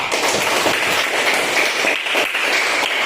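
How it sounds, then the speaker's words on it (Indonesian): A classroom of schoolchildren claps together after singing the national anthem, a dense, loud and steady patter of many small hands close by, continuing without pause. "Tepuk tangan."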